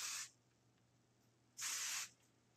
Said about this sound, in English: let's go ahead and spritz it. Set it in place how you want it.